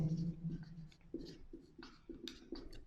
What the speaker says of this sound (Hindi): मैं इसको मिटा देता हूं और ब्लैक के साथ लिखता हूं